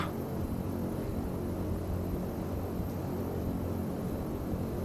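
Engine drone of a Carenado B1900D turboprop airliner in the X-Plane 11 flight simulator, a loud, constant broadband roar with a steady hum, unbroken throughout and without voices.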